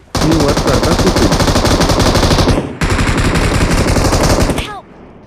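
Sustained automatic gunfire in the BGMI mobile battle royale game, loud and continuous rapid bursts filling nearly five seconds with a brief break midway, then cutting off abruptly.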